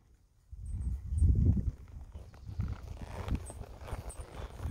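A horse walking during a riding lesson in a barn, with soft, irregular hoofbeats close by on footing, a louder burst early on and then steady, muffled steps.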